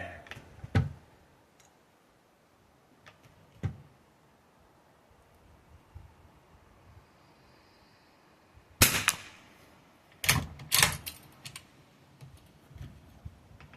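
Rifle shots from an Enfield-based rifle firing at a paper target during outdoor target shooting. Several sharp, close cracks and clicks come at irregular intervals, with a tight cluster near the end, over a quiet background.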